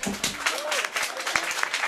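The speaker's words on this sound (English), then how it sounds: "Come on, clap, clap." An audience at a Web Wednesday tech meetup in Hong Kong claps in a short, uneven round, with a voice speaking over the applause.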